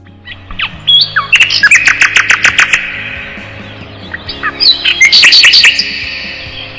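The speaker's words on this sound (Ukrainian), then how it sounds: "недалеко від них сів на дерево соловейко і заспівав" A nightingale perched in a tree sings clear, loud phrases of rapid repeated whistles and trills in two bursts with a short pause between, sounding close and with no voices.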